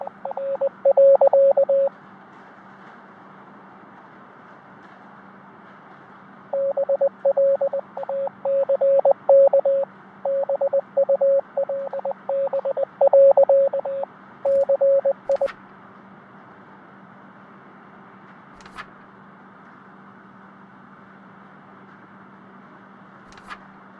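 Morse code signal tones in a postal work video game, a steady single-pitch beeping in short and long bursts across two separate runs, loud and clear over a faint constant hum, with no voices.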